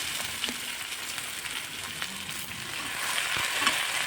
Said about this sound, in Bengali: কড়াইতে দিয়ে দিয়েছি তেল আর কাঁচা লঙ্কা ফোড়নে দিয়ে আমি আলুটাও ভেজে নেব খুব সুন্দর করে